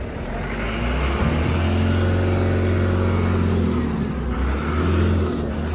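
A car engine runs and revs steadily, loud and close, with a strong low rumble and rising harmonic tones building over several seconds, no talk.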